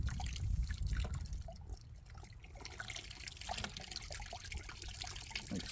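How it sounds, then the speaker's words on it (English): Water poured out of a vibratory Lot-O-Tumbler used for tumbling gemstones, a steady trickling and splashing outdoors over a low rumble, with no talk. "Empty this water out here."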